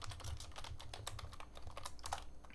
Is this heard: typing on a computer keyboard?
yes